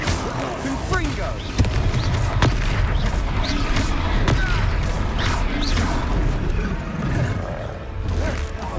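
Confringo blasting spell explosions from Hogwarts Legacy combat, with repeated sharp booms and impacts over a dense, continuous battle din, and voices talking in between.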